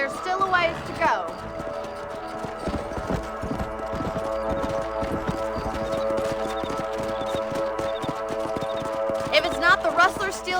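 Galloping horses in Red Dead Redemption pound out a brisk, steady clip-clop rhythm close by, layered over a sustained game music bed, with a few sharper hoof flurries at the start and end.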